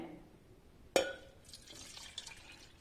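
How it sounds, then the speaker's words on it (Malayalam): Cold water from a glass is poured into a summer juice mixture, a sudden splash followed by a brief, soft gurgling trickle close by in a quiet room. "നല്ല തണുത്ത ഒരു ഗ്ലാസ് വെള്ളമുണ്ട്, ഞാൻ ഇതിനകത്തേക്ക് ഒഴിച്ചു കൊടുക്കുന്നേ."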